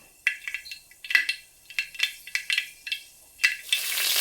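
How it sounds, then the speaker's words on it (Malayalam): Mustard seeds popping in hot oil, a run of sharp, irregular crackling pops close by over a quiet background, ending as a broader hiss rises. "അങ്ങനെ നമ്മുടെ കടുക് പൊട്ടി തുടങ്ങിയേ നല്ലപോലെ പൊട്ടട്ടെ"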